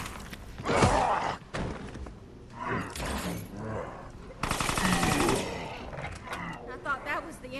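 Rapid gunfire bursts in the video game Resident Evil Resistance, loud clattering volleys and sharp shots mixed with game effects and music-like tones, arriving in clustered bursts with short gaps.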